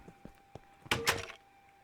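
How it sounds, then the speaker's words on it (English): A Minecraft wooden door being moved and placed, heard as a few soft taps followed by a brief, louder creaking swing and thunk, close and alone with no talk. "Move my door over here"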